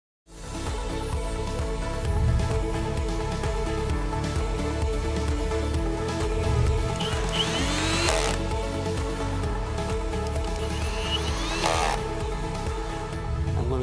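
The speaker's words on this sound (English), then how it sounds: "I'm going to go ahead and put this on my milling machine, and I'm going to face off the paint" A milling machine faces the paint off a cast aluminum anvil stand, a steady loud cutting whine and machine hum running throughout, with brief brighter scraping surges near the middle and end.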